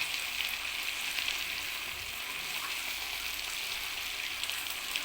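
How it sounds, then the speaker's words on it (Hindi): Meat frying in a pot for a Lahori daal gosht, a steady continuous sizzle holding at an even level throughout with no voices over it. "गोश्त को हमने तकरीबन 5 मिनट तक भूना है"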